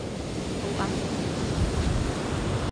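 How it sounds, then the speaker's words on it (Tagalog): Rough sea waves crash during a typhoon, a close, constant roar of surf mixed with wind noise on the microphone. "Abot tayo ng alon."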